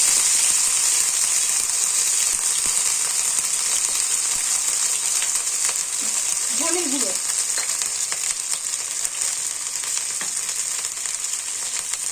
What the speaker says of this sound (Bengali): এবার একটু ভালো করে ভেজে নেব